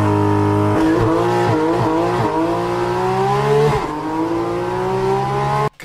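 A Porsche sports car engine during a launch: the engine idles, then revs in several sharp stepped bursts before surging into a loud, rising, sustained roar, close and dominant, with no talking.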